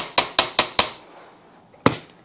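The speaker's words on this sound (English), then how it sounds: "hammer it a couple times on each side" A metal hammer strikes a wire-wrapped swirl jewelry link four times in an even quick rhythm, then once more after a pause; sharp, close, bright taps with short ringing decay, no talk.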